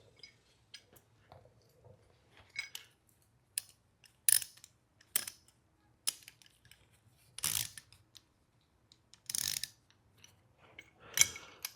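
A bolt is tightened with a ratchet in scattered bursts of clicking and brief metallic snaps, separated by near silence, close and moderately loud.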